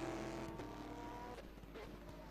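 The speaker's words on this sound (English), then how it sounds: "Looking at the number 74 Corvette machine of Keith Camilleri" The number 74 Corvette race car in rFactor 2 during a GT tournament final, its engine a steady, droning tone with gear shifts and a faint tire squeal, heard quietly and continuously.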